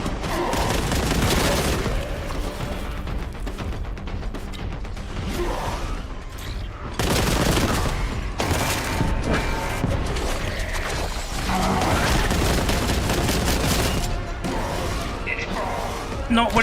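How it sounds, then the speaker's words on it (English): In Warhammer 40k: Boltgun, the boltgun rifle fires rapid, heavy bursts that are loud and nearly continuous. Mechanical clanks and impacts mix in, with brief lulls between volleys. "The Boltgun rifle caliber,"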